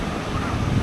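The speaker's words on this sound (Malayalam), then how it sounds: "നല്ല കാറ്റും ഉണ്ട് ഇവിടെ." Steady wind gusting across an open viewpoint at Bharachukki Waterfalls near Shivanasamudra on an overcast day, a continuous broadband rush close to the microphone with low buffeting rumble and no voices.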